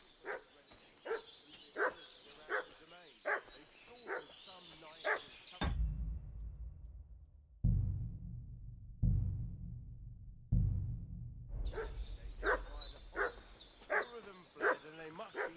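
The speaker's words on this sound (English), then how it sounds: "What's that dog making such a fuss about?" In the medieval game Kingdom Come Deliverance II, a dog barks in a fast, regular run of sharp woofs, paused by heavy low thuds and rumbling, then barking again, moderately close, with brief voice lines.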